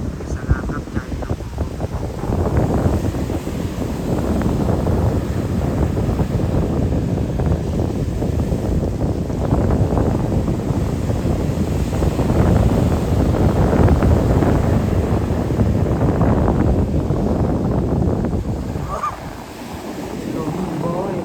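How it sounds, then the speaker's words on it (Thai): Wind blowing steadily at the seaside with surf rolling in, a constant broadband roar of gusts and buffeting across the microphone that eases briefly near the end, with possible faint voices beneath. "ลมโบยโบยบรรยากาศดีมากเลย"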